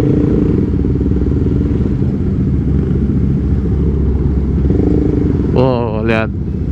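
Motorcycles on a Sunday-morning group ride around Senayan City rumble and clatter continuously nearby, with a louder engine rev rising briefly near the end; no one talks.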